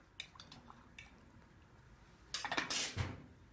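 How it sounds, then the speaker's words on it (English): Tea being stirred in a teapot: a few soft, faint clinks early on, then a brief burst of liquid swirling and spoon scraping against the pot near the end, close and quiet. "I'm going to give it a quick stir."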